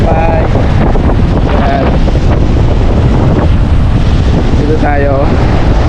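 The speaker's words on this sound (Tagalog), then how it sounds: "Lakas na naman ng tubig oh." Strong wind buffets the microphone at the seashore while heavy waves surge and crash in a loud, continuous roar, with someone talking over it in short bursts.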